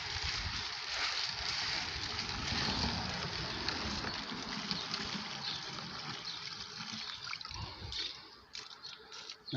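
Water from a garden hose overflowing out of an African cichlid fish tank and running down onto the ground outdoors, a steady close trickling and splashing wash that continues throughout without talk.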